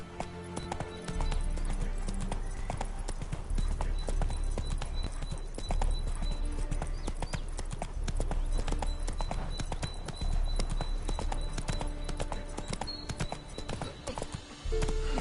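A horse gallops in The Witcher 3 with steady, rapid hoofbeats that run loud and close for the whole stretch over a low rumble, and a voice urges the horse on partway through.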